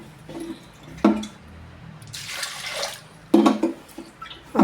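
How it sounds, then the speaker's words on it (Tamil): Water poured into a pot of dal and turmeric for drumstick rasam, a few splashing pours and sloshes with short gaps between, close and fairly loud, no voices. "இப்போ இதில் பார்த்திங்கன்னா நம்ம தண்ணி ஊற்றிக்கலாம்."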